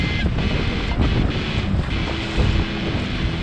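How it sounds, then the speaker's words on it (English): Wind at sea, blowing about 16 knots with a bit of swell, buffets the microphone from a kayak in a steady, roaring broadband rush with gusty swells in loudness throughout, close and loud. "The wind is blowing about 16 knots, and there's a bit of a swell"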